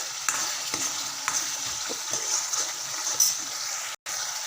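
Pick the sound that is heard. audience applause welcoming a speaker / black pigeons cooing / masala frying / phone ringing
masala frying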